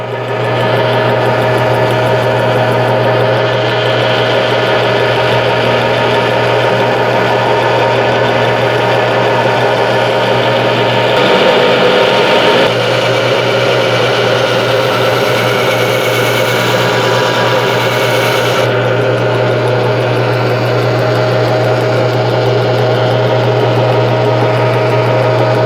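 A rotary disc grinds the base of a glass robot sculpture, making a steady loud motorized whine and grinding drone throughout, with slight shifts in pitch as the piece is worked and no voices.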